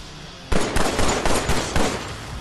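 Gunfire in the VR shooter Killing Floor Incursion: several loud, sharp bursts of shots in quick succession, each one cracking hard over a constant game background.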